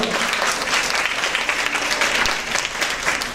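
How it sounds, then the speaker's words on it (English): A forum audience gives a loud, sustained round of applause, dense clapping filling the short clip without interruption. "So give her a big round of applause."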